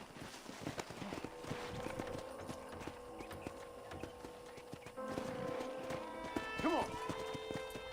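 Horse hooves clip-clop at a steady walking rhythm while riding around a ranch in the video game Red Dead Redemption, mixed with game music and a brief whinny, as someone speaks over it.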